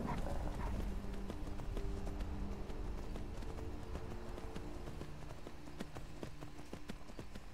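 Horse hooves clip-clopping in the video game Skyrim, a steady trotting patter under game music and ambience, with a brief spoken remark from a player.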